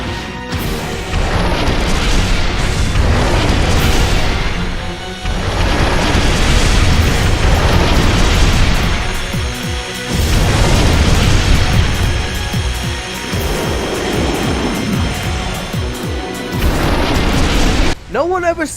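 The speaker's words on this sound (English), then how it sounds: "Cannon bursts imminent" Cannon bursts and explosions in the video game Armored Core Silent Line, a dense, loud barrage of booms and blasts rolling almost without a break over busy game sound, with a brief cut near the end.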